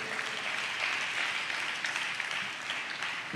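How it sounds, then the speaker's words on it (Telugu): A church congregation claps together while praising, a dense steady wash of applause, moderately distant and sustained throughout. "చప్పట్లు కొడుతూ స్తోత్రాలు చెప్దాం"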